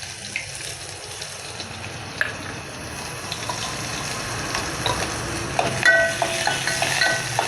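Chopped onion frying with cumin seeds in hot oil in a pan, a loud steady sizzle with occasional light pops and faint stirring clicks, growing a little busier near the end.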